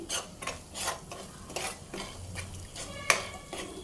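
A spoon stirs raw turmeric curry in a pan after salt and chili powder go in. Quiet, rhythmic scraping strokes repeat, ending with one sharp clink of metal, and no one speaks.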